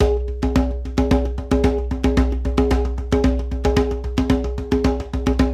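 A simple samba rhythm on drums: a steady, repeating pattern of sharp strikes over a low sustained boom, evenly paced, loud and close with no talking.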